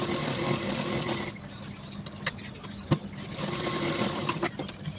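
A sewing machine runs in short quiet bursts while stitching the neckline seam of a blouse, soft mechanical whirring with brief clicks and pauses between stitches, close and low in level.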